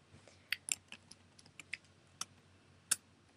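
Quiet computer keyboard keys clicked in a short, uneven series of about eight distinct taps, the kind of presses used for a shortcut, with a low steady hum underneath and no one speaking.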